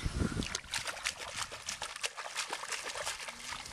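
Water splashes in a swimming pool in quick, irregular bursts nearby, a choppy sequence of wet slaps and trickles with no talking.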